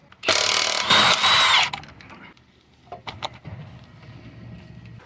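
An impact tool zips 21mm lug nuts off the rear left wheel of a 2013–2020 Mitsubishi Outlander. One loud, close whirring burst lasts about a second and a half, then a few quieter clanks and knocks follow.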